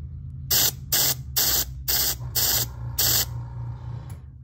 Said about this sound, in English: Give it a test spray to check consistency before I put it onto the shoe itself.